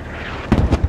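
Explosive cannon rounds fired in the military shooter game Squad, with a quiet rumbling background before two or three loud, close booming bursts in quick succession, followed by trailing thumps.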